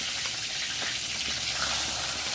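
Onions and curry leaves sizzle in hot oil for a bitter gourd curry, a steady close hissing fry with faint crackles and no talking.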